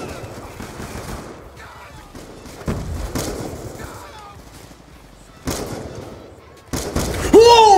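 Gunfire while moving in Call of Duty Black Ops 2, with bursts of shots mixed with game noise, rising near the end, and a voice talking throughout.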